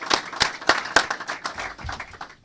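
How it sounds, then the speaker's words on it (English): A crowd claps for a university chancellor at an Aggies event announcing the move to the Big South conference, a short burst of scattered hand claps that fades out after a couple of seconds. "giving a round of applause for your Chancellor, Chancellor Marlin"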